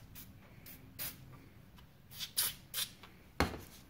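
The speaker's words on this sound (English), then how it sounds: "So what we're going to do is we're going to spray it down." Short hissing bursts of spray lubricant on an outboard motor's carburetor choke linkage, several quick sprays in irregular rhythm, close and fairly quiet, with no talk.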